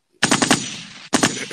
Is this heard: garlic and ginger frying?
no